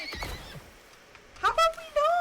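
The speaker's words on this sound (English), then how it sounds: "this freaking horse is trying to kill me" A horse in the video game Icarus lets out loud, close, wavering neighs in the second half, after a few soft clip-clop thuds; a person talks briefly beforehand.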